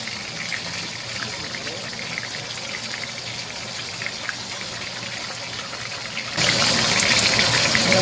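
Water is poured into a pot of Jamaican rice and peas, a steady broadband rush that swells louder and brighter toward the end, with no talk over it.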